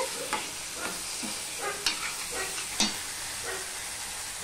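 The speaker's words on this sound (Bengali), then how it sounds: "নুন দিয়ে আমি আরো একটু কষিয়ে নেব।" Ridge gourd stir-fried with salt in a pan for a Bangla fish curry, giving a steady close sizzle with scraping stirs and a few sharp utensil knocks against the pan, no talking.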